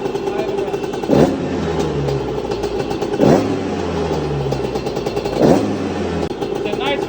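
A small two-stroke engine runs at idle after its carburetor idle screw is adjusted, blipped three times in even, rising revs that settle back to a steady idle, near and fairly loud, with someone talking over it.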